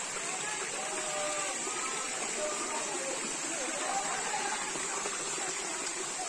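A steady rushing waterfall roars continuously at moderate distance, with voices murmuring faintly beneath it.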